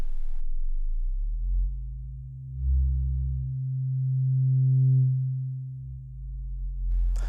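Deep, resonant bass tones from a Sequential Take 5 synthesizer's filter, a sustained smooth hum that swells and shifts pitch slightly over several seconds, clean and alone.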